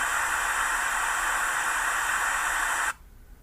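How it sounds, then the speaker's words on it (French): Steady broadband pink noise generated in Audacity, a smooth continuous hiss like rain or static, loud and unchanging for about three seconds before cutting off abruptly to near silence. "le bruit rose."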